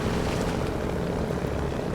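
A truck engine in a trucking video game, a Kenworth twinsteer rig, drones as a steady, dense low rumble with broadband roar, loud and unbroken throughout with no talking.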